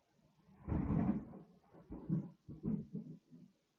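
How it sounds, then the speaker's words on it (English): Low, rolling thunder rumbles in several swells over a few seconds during heavy rain, fairly close, with no voices. "Y'all hear that thunder?"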